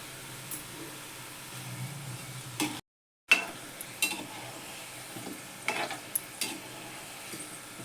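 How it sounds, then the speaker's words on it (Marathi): Sweet modak dumplings frying in hot oil, a soft continuous sizzle with occasional light taps and stirring clinks of a utensil, fairly quiet and close. "सगळे तळून घेते"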